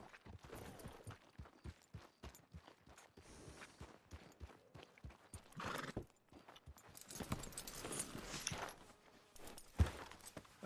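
Horse hooves walking in a Red Dead Redemption 2 game scene, a steady clip-clop of hoofbeats with a whinny and ambient rustle, fairly quiet and continuous without talk.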